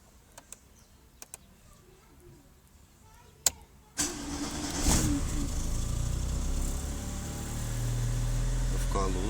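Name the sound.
cold start of rebuilt Chevrolet Kadett 1.8 engine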